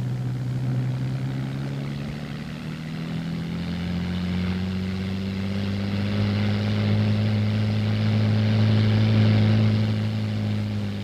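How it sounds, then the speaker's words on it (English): An experimental U.S. Army hovering donut craft drones steadily, its main propeller driven by a 55-horsepower engine, a loud continuous engine hum whose pitch rises slowly, with no talking. "The main propeller is driven by a 55-horsepower engine, which produces a lift of approximately 6 inches."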